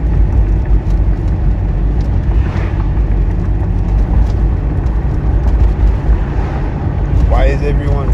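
Traffic passing close by on a road, a continuous heavy low rumble with strong wind buffeting on the microphone and a faint higher whine near the end.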